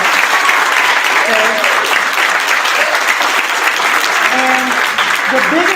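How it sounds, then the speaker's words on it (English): Sustained applause from an audience at a motivational talk with an NFL figure, dense and steady clapping throughout, with brief speech heard over it. "Let's clap again. You cannot clap enough."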